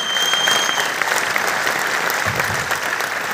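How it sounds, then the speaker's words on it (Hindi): Loud audience applause at a business meeting, a continuous dense wash of clapping with a brief whistle early on. "जोरदार तालियां।"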